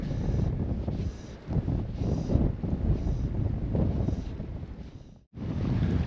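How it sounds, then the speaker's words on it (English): Wind buffets the microphone beside open water while spey fishing for brown trout in the Falklands, a steady gusting roar with surging swells, briefly dropping out near the end before resuming. "the wind has now switched direction"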